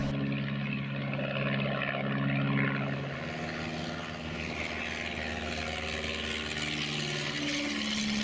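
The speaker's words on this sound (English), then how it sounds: "he would have been very familiar with this aircraft, the Miles Magister, then the RAF's basic trainer" A Miles Magister, the RAF's basic trainer, running its propeller engine, a steady droning hum that holds level throughout with a slight change in pitch partway through.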